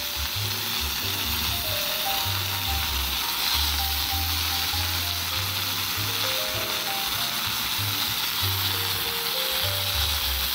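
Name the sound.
asafoetida, green chili and ginger frying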